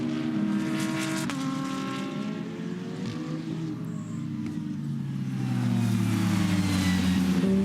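A GT race car powers down the back straight of The Bend Motorsport Park circuit in South Australia, its engine roaring loudly and steadily with rising revs and gear-change harmonics, the sound swelling as it nears.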